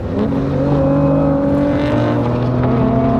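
A Clarion-built Acura NSX launches and accelerates hard, its loud engine note climbing steadily in pitch, close and continuous with no talk.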